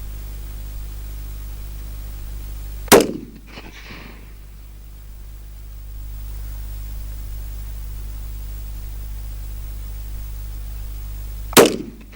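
A Sabatti STR 6.5 Creedmoor rifle fires Winchester match ammunition outdoors, two sharp loud shots about eight and a half seconds apart, each followed by a brief fading echo over a low steady background hum.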